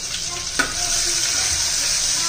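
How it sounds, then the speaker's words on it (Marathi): Ginger and garlic paste with curry leaves sauté in a pan, a loud, even, continuous sizzle with one short stirring clink early on. "चांगलं परतून घ्यायचंय"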